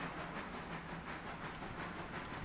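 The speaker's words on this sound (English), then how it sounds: "It sounds like an AI train." In a railroad video game, a train rolls past at a distance, giving off a steady, faint rumble with a wash of hiss and light rail clatter. No one speaks.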